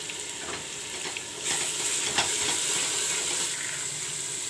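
Dhania, jeera and black pepper paste sizzles and fries steadily in a village-style mutton curry pot, a continuous close hiss that grows louder partway through, with faint stirring scrapes.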